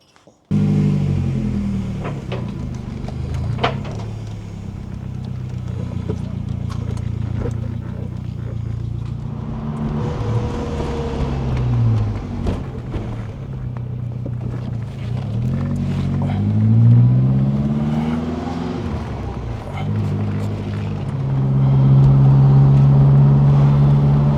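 A 1990 Saab 900 T16S drives along, its engine and exhaust droning steadily with rising and falling revs through gear changes, close and fairly loud over road rumble for the whole stretch.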